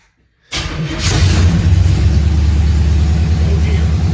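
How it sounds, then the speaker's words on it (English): A 1970 Chevrolet Nova engine cranks and catches after a brief silence, then settles into a loud, steady, rumbling idle close by. "Turn the fuel pump on after you start it."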